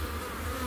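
Dense, steady buzzing of an aggressive honey bee colony of roughly 25,000 to 30,000 bees, a close, continuous hum with no gaps.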